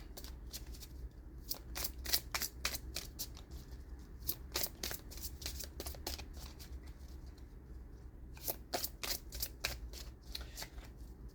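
Oracle cards are shuffled before one is drawn, a quiet, close run of crisp riffling flicks in repeated bursts over a low steady hum, with no speech.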